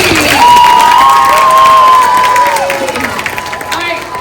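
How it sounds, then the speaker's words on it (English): A school audience applauds and cheers after a performance, a loud crowd burst with clapping and shouts that tapers off, while a presenter speaks over the start. "All right, give it up for Azul and Naomi."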